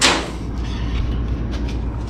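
A 1977 Pontiac Trans Am door being handled during bodywork, a sharp knock at the start followed by faint scraping and light taps, close in a quiet workshop.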